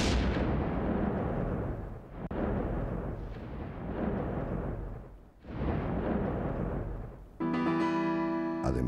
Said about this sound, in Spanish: imprevistamente estalla una bomba en un extremo de la plaza